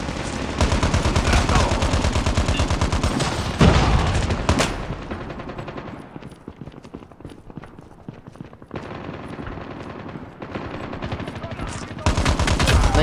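Machine gun fire in the mobile shooter Call of Duty Mobile, loud rapid bursts of automatic shots that stop for a quieter stretch of game ambience before a fresh burst at the end, with voices faintly mixed in.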